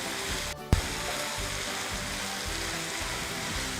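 Six or seven garlic cloves and a small piece of ginger sauté with onions and spices in a pan for irachi pathiri filling, giving a steady even frying hiss with one sharp knock early on.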